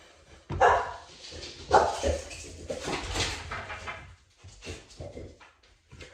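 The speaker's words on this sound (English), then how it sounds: "That was my dog being a dickhead." A dog barks loudly in a few sharp bursts, mixed with voices and some household clatter.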